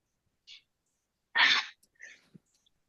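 A single sneeze heard over an online meeting, preceded by a short inhale and followed by a faint sniff and breath, close and otherwise quiet.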